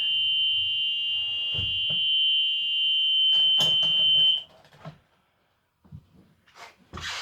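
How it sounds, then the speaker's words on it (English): A loud, steady high-pitched buzzer from a bus emergency window sounds continuously for about four seconds as the red handle is lifted, with brief speech and clunks beneath, then cuts off, leaving quieter talk and movement. "Lift the red handle, buzzer goes off, the window does open."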